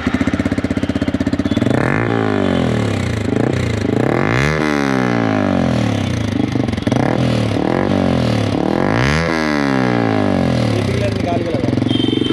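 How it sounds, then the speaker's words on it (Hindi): A Yamaha R15M motorcycle with a full-system aftermarket exhaust runs in neutral, its engine loud and close with repeated rising revs that climb and drop, while people talk over it. "बैंड पाइप फिट कराने के बाद दिखाता हूँ आपको क्या साउंड आ रही है बाइक की"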